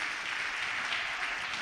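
An audience, gathered to honour fathers, gives a steady wash of clapping that runs evenly throughout, moderately loud and sustained without speech.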